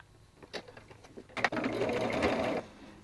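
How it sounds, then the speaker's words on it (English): Sewing machine stitching a quarter-inch seam on small quilt block pieces, a few brief stitches followed by a steady close mechanical whir lasting about a second. "all you're going to do is sew a 1/4 inch seam"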